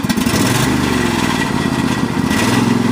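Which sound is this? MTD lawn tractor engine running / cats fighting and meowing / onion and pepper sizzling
MTD lawn tractor engine running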